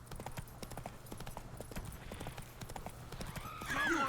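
Horse hooves clip-clop at a steady walking pace on a road in The Witcher 3: Wild Hunt – Blood and Wine, faint and rhythmic, ending in a brief whinny.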